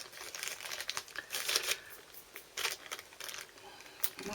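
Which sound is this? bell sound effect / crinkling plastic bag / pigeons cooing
crinkling plastic bag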